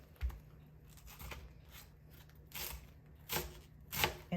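A knife cuts a small head of cabbage into fine shreds, making soft, irregular crisp slices and scrapes spaced across the clip, with a few louder cuts near the end.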